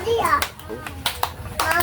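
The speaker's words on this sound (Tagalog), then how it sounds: "tagaan na to sila og tulo ka palakpak" Children in a classroom clap in unison three times, sharp bursts spaced about half a second apart, mixed with kids' chatter and talk around them.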